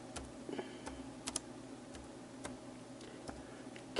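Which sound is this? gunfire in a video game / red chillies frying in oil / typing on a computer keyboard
typing on a computer keyboard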